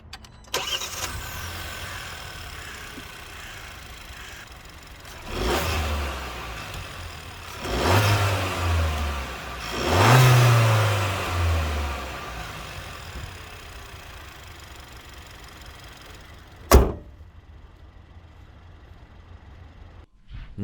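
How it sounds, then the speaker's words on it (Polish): Kia Ceed 1.5 T-GDI turbocharged four-cylinder petrol engine, 160 hp, with six-speed manual, idling steadily and rising in three blips of revving before a short sharp thump, then settling back to a quiet idle, heard alone. "Tak ten silnik brzmi."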